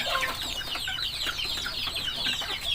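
Chickens cluck and chatter on a backyard farm, several birds calling in quick overlapping bursts close by, with no talk.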